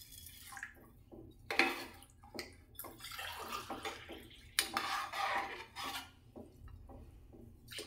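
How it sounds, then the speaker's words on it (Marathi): Water pours into a cooking pot for a village-style recipe, three glasses' worth, splashing and gurgling in uneven bursts with light clinks of metal, close and moderately loud. "त्याच्यात आपल्याला प्रमाणानुसार पाणी टाकायचं आहे।"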